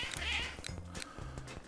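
Cats meow in the CatNab video game, which is about corralling cats: three short, close, fairly quiet mewing calls follow one another in quick succession, with a faint game backdrop.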